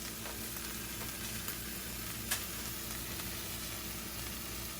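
Cheesesteak meat with provolone and mozzarella melting on top sizzles steadily on a hot surface, a constant close frying hiss with no talking.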